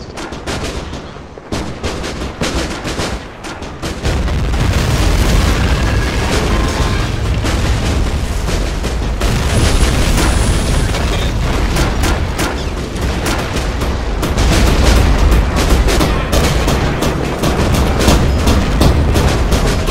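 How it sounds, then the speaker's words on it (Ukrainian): Loud battlefield gunfire and booming artillery-like blasts pound continuously through the whole stretch, dense and close, with no speech over the barrage. "Гучний постріл!"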